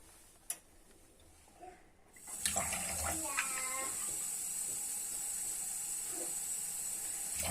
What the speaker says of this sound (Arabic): هاد الطريقه غادي نضيف عليها كاس ديال الماء